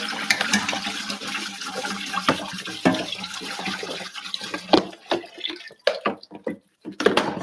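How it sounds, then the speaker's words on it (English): Tap water running into a kitchen sink while a jar is rinsed of sugar and salt, an uneven splashing gush with clinks and drips, tapering into intermittent splashes near the end. "I'm just going to rinse off all of that sugar and all of that salt there."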